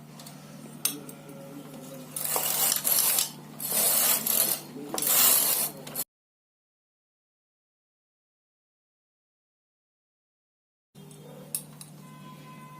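Knitting machine carriage sliding across the needle bed while knitting rows for a frock, with several close, scraping passes in bursts, then a stretch of silence before faint handling noises resume.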